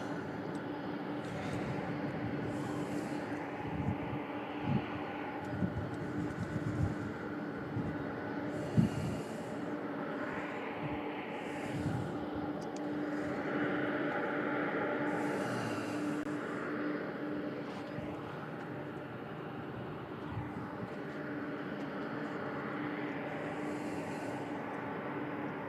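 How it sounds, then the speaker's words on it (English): Distant McDonnell Douglas MD-11 jet at an airport, a steady broadband engine rumble and roar that swells and fades across the whole stretch, with faint scattered background noises and no talk. "This MD-11 is headed to Salt Lake City."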